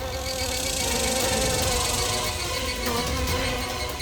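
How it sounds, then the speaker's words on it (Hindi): Flies buzz inside a parked car, a steady, close insect drone with a faint low rumble underneath that holds for the whole stretch. "भाई इतनी मक्खियां गाड़ी में कहां से आ रही है?"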